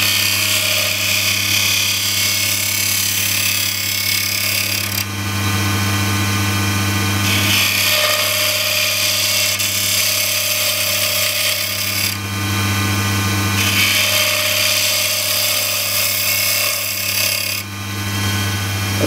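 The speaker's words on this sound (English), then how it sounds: "I'll use this 3/8 spindle gouge" Wood spinning on a lathe while a 3/8 spindle gouge scrapes and cuts a spinning top, a loud continuous motor hum under bursts of harsh rasping that start and stop every few seconds.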